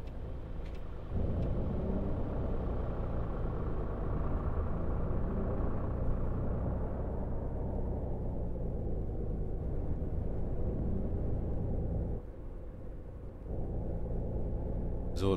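Simulated coach bus in Fernbus Simulator pulling away and driving, a steady low engine rumble that stays loud and even throughout, with a brief dip near the end before the drone resumes.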